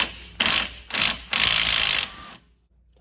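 Ratcheting wrench working loose a tight bolt on a wheel hub and brake assembly, heard as three close bursts of rapid clicking, the last one longest, then silence.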